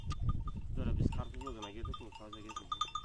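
Goats bleat over and over in wavering cries near a farm, some close and some further back, with cowbells clinking faintly and people talking underneath.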